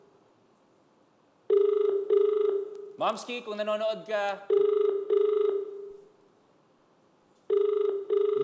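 A telephone rings repeatedly in a steady, evenly spaced electronic ring pattern while a call is being placed, with a voice talking over the middle of the ringing.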